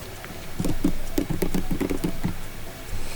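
Fingers type on a computer keyboard in a quick burst of close, crisp key taps, then pause briefly before a few more keystrokes, with no talk.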